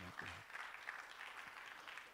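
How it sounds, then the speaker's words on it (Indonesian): A church congregation applauds during a sermon, a faint, steady wash of many hands clapping heard from a distance, with a brief voice at the start. "Yang setuju berikan tepuk tangan yang banyak."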